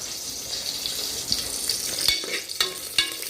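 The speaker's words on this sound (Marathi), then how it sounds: "आता कांदा फ्राय करायचा आहे आपल्याला" Sliced onions crackle and sizzle steadily in hot oil for a dhaba-style chicken curry, with a few sharper pops and clinks of stirring near the end.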